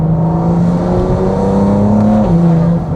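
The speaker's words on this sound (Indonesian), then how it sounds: "suara intake enak banget" Modified 500HP+ car engine with loud intake noise, a close, steady revving drone that rises slightly then dips near the end, heard alone without voices.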